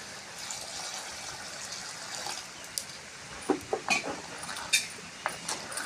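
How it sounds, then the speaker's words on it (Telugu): Water poured into a pot of mutton and raw mango curry during home cooking, a steady splashing wash with a few sharp clinks and splashes near the end, close and moderately loud. "ఇప్పుడు తగినన్ని వాటర్ వేసుకుందామండి నీళ్ళు"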